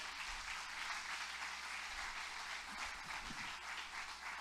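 A church congregation applauding during a sermon, a faint, distant, steady patter of many hands clapping that holds evenly throughout.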